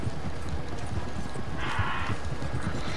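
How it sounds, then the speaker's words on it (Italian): Wild horses gallop in the Red Dead Redemption 2 video game: dense, rapid hoofbeats pound loudly and continuously, with a brief whinny-like cry partway through over a noisy game soundscape. "Cavalli selvatici!"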